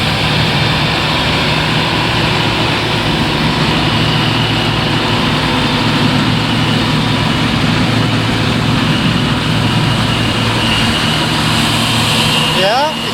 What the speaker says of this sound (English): we've got a 7530 John Deere tractor with the grain trailer